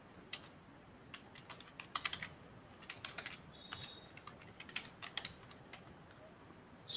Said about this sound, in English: Let me just type it out for you.